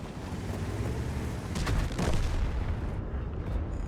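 A tank gun firing in World of Tanks, a deep boom with a burst of noise near the middle, heard over constant loud engine rumble and battle ambience.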